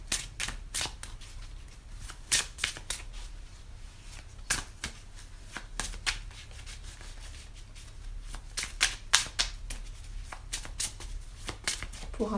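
Oracle cards being shuffled for a May card reading, a run of crisp riffling and rubbing bursts repeating in quick irregular clusters, close and fairly quiet, with no talking.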